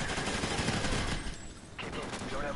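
Gunfire in the Call of Duty Ghosts clockwork mission, a steady rattle of rapid shots, fairly close, with a voice talking over it.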